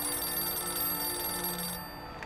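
A telephone rings inside the Syberia adventure game, a steady electronic trill holding for about two seconds before cutting off abruptly near the end.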